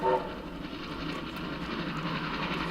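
Steam train rolling along the tracks, a steady rumble and clatter at moderate distance with a brief whistle-like tone at the start.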